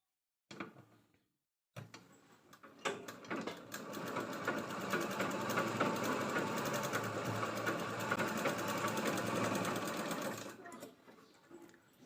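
An electric sewing machine runs a long, steady stitching burst around the edges of a fabric pocket made from leftover blouse border, after a brief start and pause, then slows and stops.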